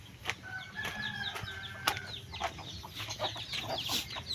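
Chickens cluck in a busy farmyard, with a rooster crowing among repeated short calls; the sound is steady and moderately close, with no talk over it.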